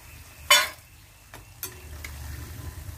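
Pakkavada crackles in hot oil while a slotted spoon scrapes and scoops pieces out, with a loud metallic scrape, a couple of softer clinks and a low background sizzle.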